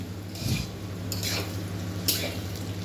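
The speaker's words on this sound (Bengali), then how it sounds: "এখানে এখন পেঁয়াজ ভাজাটা চলছে আমার" Onions fry in hot oil with bay leaf and sugar in a kadai, with a soft steady sizzle and a few scraping stirs of a spoon against the pan, fairly quiet and close.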